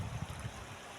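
Muddy Athi River running high after floods, a brief steady low rushing and gurgling of flowing water with no voices.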